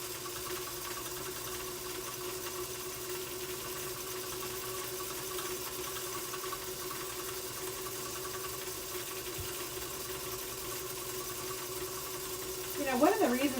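A Featherweight sewing machine runs in a steady, fast mechanical whir while making tight locking stitches during quilting, with a faint voice briefly near the end.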